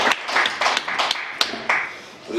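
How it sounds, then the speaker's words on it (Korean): Congregants at a Korean Sunday church service clap together, a run of uneven, fairly loud claps over about two seconds that thins toward the end. "박수로 하나님께 영광 돌리겠습니다."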